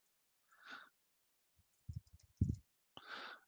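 A short, faint cluster of clicks on a computer keyboard sits between soft breathy sighs in an otherwise quiet room.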